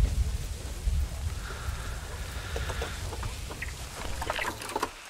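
Rain falls in the zoo-building video game Planet Zoo, a steady wash of patter with scattered droplet ticks, fairly close and continuous; no talk over it.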